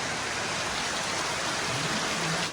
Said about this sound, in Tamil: நாங்கள் வீட்டு வேலை செஞ்சு கொண்டிருக்க மழை வந்துட்டு நல்ல மழை செம்ம மழை